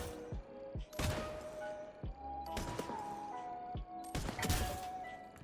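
Weapon fire in the Off the Grid video game on a cyber range: several loud, sharp gunshot bursts, some rapid single shots and a couple of sustained volleys, separated by short pauses, with a faint electronic tone between.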